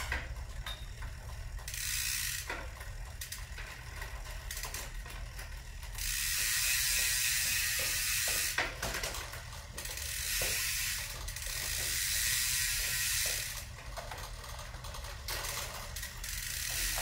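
Bicycle drivetrain ticking and clicking in a repeating ratchet-like pattern, with bursts of louder chain and gear chatter rising and falling, fairly faint and mechanical, no voices over it.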